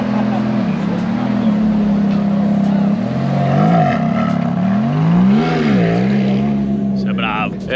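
A Ferrari F430 engine at a car meet hums low and steady, then rises and falls in a couple of rev swells before settling, heard close and loud, with a voice talking over it.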